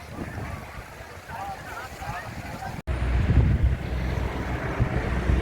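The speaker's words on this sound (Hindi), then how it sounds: "अलकनंदा नदी का तेज प्रवाह" The fast-flowing Alaknanda River near Badrinath rushes in a continuous broadband roar mixed with heavy wind buffeting on the microphone, jumping abruptly louder halfway through.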